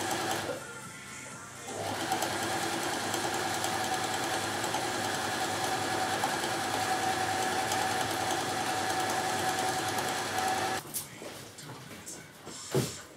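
A sewing machine stitches tape onto cloth for about nine seconds, running close, loud and steady, starting and stopping abruptly with quiet moments before and after and no talk.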